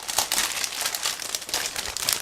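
A large plastic bag from a 1/35 scale ICM King Tiger tank model kit is opened, giving a steady stream of close, loud crinkling and rustling with no talking.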